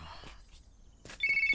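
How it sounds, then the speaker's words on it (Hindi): A phone ringtone chirps loudly in a repeated electronic trill near the end, after a few quiet shuffling sounds, with no talk. "कहीं तो सुना हुआ है ये रिंगटोन मैंने।"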